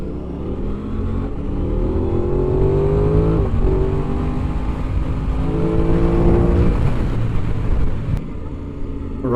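A motorcycle engine revs steadily and loudly on a wet road, the exhaust note rising and falling in close, sustained bursts with no speech.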